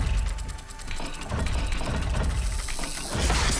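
Slytherin lock dial turning in the Hogwarts Legacy video game, a close, steady run of ratcheting clicks and grinding gear mechanism sounds that continues throughout without a pause.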